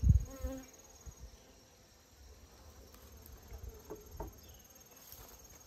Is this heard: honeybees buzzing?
yes